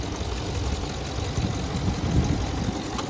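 A steady, low idle from a Ram 2500 pickup's 6.4 L Hemi V8 rumbles evenly throughout, close by, with no talking over it.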